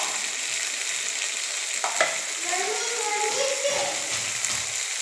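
Sem bean sabji with paneer masala fries in a pan with a continuous hissing sizzle and occasional stirring, while a voice speaks briefly in the background.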